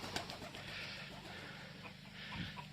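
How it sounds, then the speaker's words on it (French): Soft pigeon coos at a duck-breeding farm, over a constant background hiss and murmur, faint and somewhat distant. "Là, les pigeons ils sortent."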